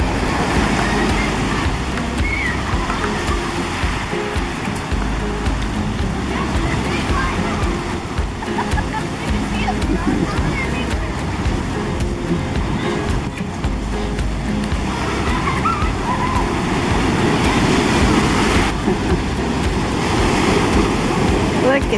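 Ocean surf at a small beach near Morro Bay, California, a loud continuous roar of waves mixed with strong wind buffeting the microphone and a voice talking over it.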